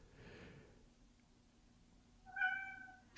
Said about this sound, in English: Perfectly timed meow from the cat.